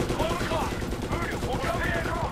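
Machine gun fire from the Medal of Honor video game, a dense continuous stream of rapid shots with someone talking loosely over the gunfire throughout.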